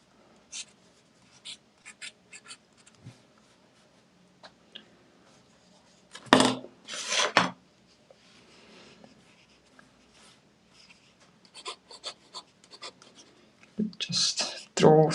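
A pen scratches lines on paper while sketching an ink drawing of plants and grass, with short dry strokes coming in irregular bursts and a few louder scribbling passes, close and fairly quiet.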